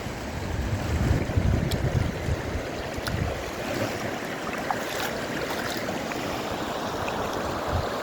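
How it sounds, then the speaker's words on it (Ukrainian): A waterfall on the Lahn river in Marburg rushes in a steady broadband roar, continuous and moderately distant, with no talk. "Це водоспад"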